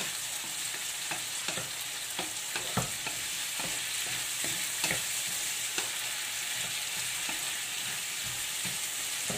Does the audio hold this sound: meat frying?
yes